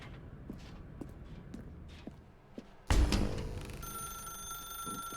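A telephone bell starts ringing loudly partway through in The Stanley Parable, after a stretch of soft footsteps, and rings on steadily to the end.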